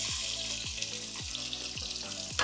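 Three thinly sliced onions frying in a pan for mutton haleem give a steady, close sizzle, with soft low knocks recurring about every half second as they are stirred.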